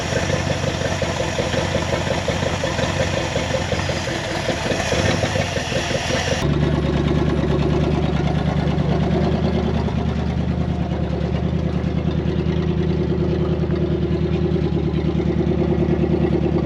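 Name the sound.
Dodge Power Wagon engine idling with bad exhaust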